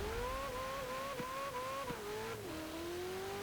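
A Ferrari V8 engine in Forza Horizon 4 holds a steady snarling drone with brief pitch dips at gear shifts, faint and distant under a busy background of tire noise.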